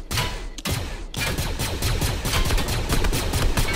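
Rapid bursts of video-game gunfire from Fortnite, loud and dense, with a brief gap early on before sustained firing continues throughout.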